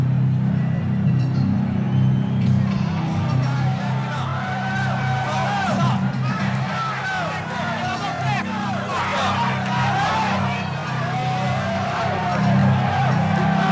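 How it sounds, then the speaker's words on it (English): Packed boxing arena crowd roaring before a Mike Tyson heavyweight fight, a dense, sustained wall of cheering and scattered whoops that stays loud from start to finish. "The sound is deafening here in the arena"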